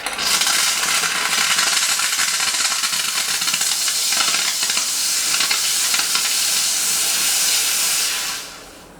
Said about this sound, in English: I like to give a good purge of the steam on just to heat all this up before we start.